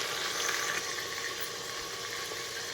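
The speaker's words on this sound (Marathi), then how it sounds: "1 मिनिटभर फक्त परतून घ्यायचं." Tomatoes sautéing in a pan, a steady faint sizzle and frying crackle running continuously without any talk.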